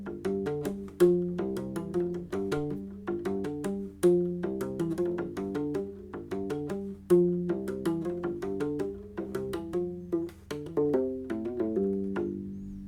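A U-bass played with two-handed tapping runs through a steady, rhythmic melodic line of plucked low and mid notes, close and clear, with no voices.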